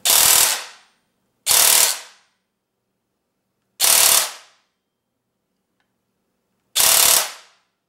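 An airsoft DSG gun fires full auto in four short, loud, close bursts, each a rapid mechanical rattle about half a second long, separated by irregular silent gaps.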